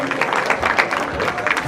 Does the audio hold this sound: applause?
yes